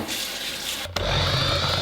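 Running tap water pours steadily into a sink during hand washing between steps of making a cake batter, a brief knock and shift in the flow near the middle, with no voices.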